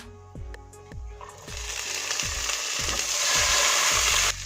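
Frozen peas and spices hit hot oil in a pan, building into a loud, dense sizzle that grows and holds steady, with a rhythmic thumping running underneath.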